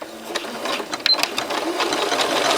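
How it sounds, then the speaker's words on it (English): Janome Skyline S5 sewing machine running a single repeat of a decorative stitch, a close, steady mechanical whir with rapid needle ticking throughout, no talking. "Right now it's just going to do one repeat of that decorative stitch"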